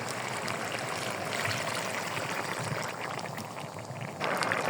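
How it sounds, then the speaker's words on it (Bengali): Turmeric water is poured into a pan of cooking fish and bottle gourd, a fairly quiet, continuous trickling and bubbling splash that swells slightly toward the end. "এখন আমি হলুদ পানি দিয়ে দেবো"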